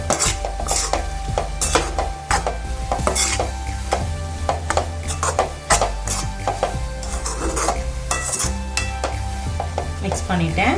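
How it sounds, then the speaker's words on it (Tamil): A spoon stirs banana stem dal kootu in a pan on the stove. Repeated scraping and clinks against the metal sit over a steady low simmering hiss, and the strokes are fairly regular and close up. "இதையும் நல்லா மிக்ஸ் பண்ணி விட்டுக்கலாம்"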